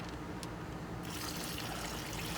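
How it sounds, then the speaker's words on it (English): About three cups of water pour into a coffee brine for pork ribs, making a steady, close rushing trickle that lasts throughout. "I'm gonna add 3 cups of water to it."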